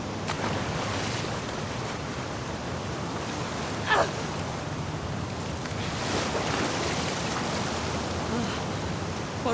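Ocean waves in the video game The Last of Us Part II, heard while swimming toward an aquarium: a steady, broad wash of surf and water noise with a few brief splashes, continuous and fairly loud throughout, with no voices.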